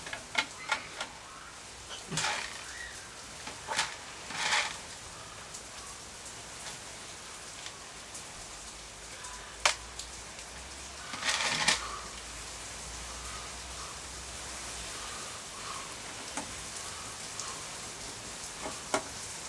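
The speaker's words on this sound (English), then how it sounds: "that rain's really coming down now" Heavy rain pouring down outdoors, a steady broadband hiss with scattered louder splashes and drips on surfaces, continuous and fairly close.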